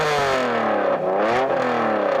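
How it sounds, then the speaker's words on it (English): A Honda NSX engine revs hard and close, its pitch climbing, dipping briefly, then surging again in a loud continuous howl with no talking over it. "I'm going to rev up this Honda NSX"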